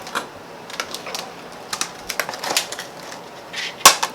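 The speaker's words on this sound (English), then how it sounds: "So with dill, what you want to do is cut it first." Fresh dill being cut with a knife, a series of crisp, close chopping taps spread unevenly over a few seconds, ending with one sharper, louder knock against the board.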